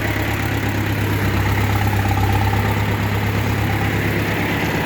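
A Forte 404 mini tractor engine runs steadily at a close, constant idle-like drone, with a deep low rumble and no voices over it.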